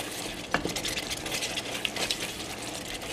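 Tomato paste stirred into a pot for a beef vindaloo, soft scraping spoon strokes with a faint sizzle underneath and a couple of light clinks, close and quiet.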